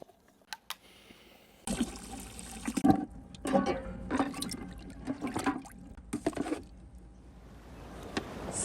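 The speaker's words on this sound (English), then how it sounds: "I'm gonna be using this bucket because it's gonna be a lot more efficient to put the Dutch oven here and fill it with the vinegar solution." Vinegar solution is poured into a bucket to soak a cast iron Dutch oven. After a quiet start with a few clicks, a gurgling, splashing fill surges and fluctuates for several seconds, then fades into a soft trickle.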